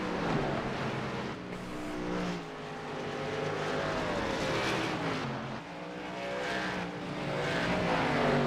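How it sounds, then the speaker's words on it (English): Race cars roaring around Bristol Motor Speedway in a racing video game, a steady loud engine drone with rising and falling pitch as the cars pass, continuous throughout with no talk. "Exiting turn 4, no problems, and Tanner Sharp is gonna win at Bristol Motor Speedway."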